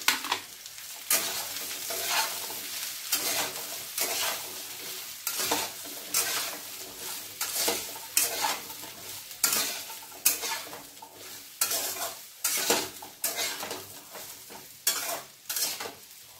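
Pointed gourd (potol) stir-fried in a pan, with a steady sizzle and repeated scraping, clattering strokes of a utensil against the pan in an uneven rhythm, close and continuous with no talking.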